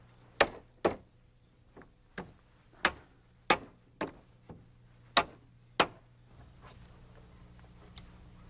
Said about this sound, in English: now all I need to do is finish nailing off the risers